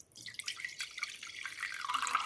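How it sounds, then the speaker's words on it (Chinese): Water drained from soaked millet pours into another bowl, a soft close trickle and dripping that builds slightly, quiet and alone. "接下来我们把小米水给它控出来，倒在另一个碗中"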